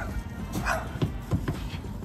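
A dog nearby gives several short barks and yips, mixed with whimpering, over a little under two seconds with irregular spacing.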